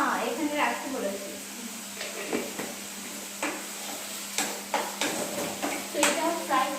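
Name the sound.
frying in a pan for soya curry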